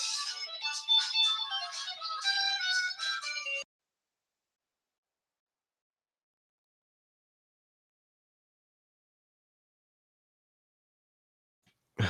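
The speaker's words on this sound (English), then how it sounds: "Sorry, that's my phone here." A mobile phone ringtone plays a bright, chiming melodic tune for several seconds, fairly loud and close, then cuts off into silence.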